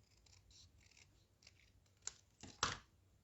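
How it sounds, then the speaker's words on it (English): Scissors trimming a paper card greeting strip, several soft snips building to two louder, close cuts near the end, with no talk. "I think I'm going to trim this down a little bit"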